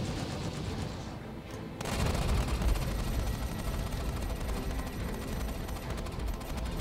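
Ship cannons firing in the Star Citizen space combat game, a dense, continuous barrage of rapid booming shots that swells louder after a short lull, steady and close throughout.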